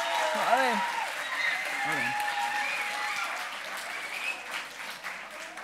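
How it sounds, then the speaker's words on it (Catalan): An audience applauds steadily at the launch event of Catosfera 2023, a sustained wash of clapping that holds for several seconds, while a voice talks over the top of it. "Això d'aplaudir, manteniu-ho així, que està súper."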